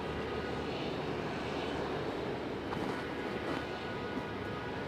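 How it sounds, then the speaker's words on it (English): Jet engines of a Boeing 777 airliner drone steadily during pushback at Raleigh-Durham airport, a continuous broad roar heard from a moderate distance with no talk. "there it is, 777 on the pushback"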